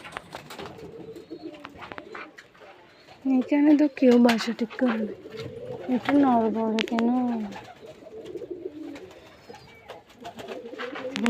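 Pigeons coo in low, throaty rolling phrases at a nest, close and prominent through the middle, while someone talks intermittently over them.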